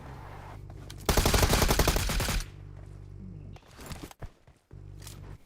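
An automatic rifle fires a rapid sustained burst in the mobile shooter game BGMI, loud and close, then gives way to quieter in-game movement and scattered rustling sounds.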